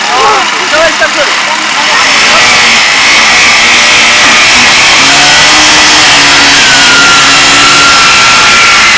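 Passion Pro Plus and Honda motorcycles revving hard together in a tug-of-war challenge, a loud sustained engine roar with rising and falling pitch throughout, mixed with voices and crowd noise.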